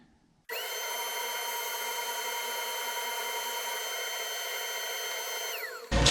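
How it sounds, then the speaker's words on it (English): A power tool runs steadily while sanding a wooden guitar neck, starting abruptly and holding a constant high whirring drone for several seconds before winding down, loud and close with no voices. "I can sand this out."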